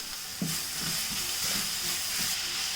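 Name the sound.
stirring masala with pasta sauce frying in a pan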